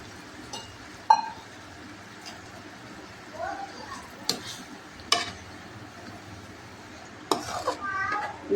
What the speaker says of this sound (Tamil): இதை ஒரு தடவை கிளறி விட்டுக்கலாம்